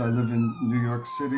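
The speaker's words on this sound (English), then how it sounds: "I'd like to apologize for the sirens." A siren wails in the background, its tone rising and falling, while a man gives a speech over it at an interfaith prayer service.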